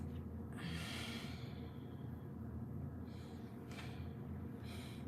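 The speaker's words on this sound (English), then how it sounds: "I keep like sniffing and stuff" Someone with a stuffy nose sniffs and breathes heavily through it in a couple of long, faint bursts over a low steady background hum.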